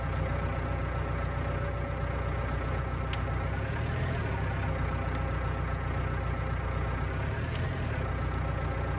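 A tractor in Farming Simulator 2019 runs with a continuous steady engine hum and rumble, with a couple of brief pitch shifts as it works, and no speech.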